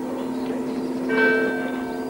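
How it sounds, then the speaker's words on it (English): A church bell rings for early mass in Loughinisland, Northern Ireland, a single resonant toll with a long humming decay, heard clearly in a quiet rural setting. "The bell for early mass in Loughin Island."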